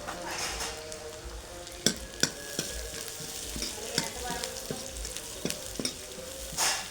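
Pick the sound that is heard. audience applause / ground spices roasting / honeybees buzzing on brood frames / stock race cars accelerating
ground spices roasting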